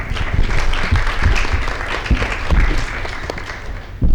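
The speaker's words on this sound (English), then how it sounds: "a good round of applause" A room full of people at a student society general assembly claps in a sustained round of applause, dense and fairly loud throughout.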